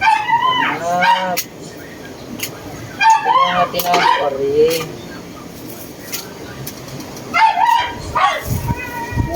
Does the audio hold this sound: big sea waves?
no